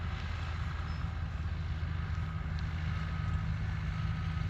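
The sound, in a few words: John Deere 6125 tractor engine running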